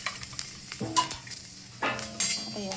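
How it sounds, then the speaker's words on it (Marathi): Green chillies hit browned onions in a hot pan, giving bursts of sizzling and frying with metallic scrapes and clinks of a stirring spoon against the pan, in short separate spells close by. "आता या मिरच्या भाजून घेते."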